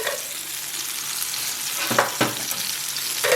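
A spice paste with its liquid frying in a pan for Bogor-style noodle soup, giving a soft continuous sizzle with a few sharper stirring scrapes, close and without talk.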